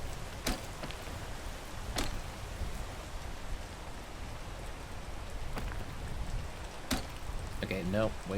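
Steady rain hisses throughout in the video game Peak, with a few sharp clicks and taps rising above it and a voice briefly speaking near the end.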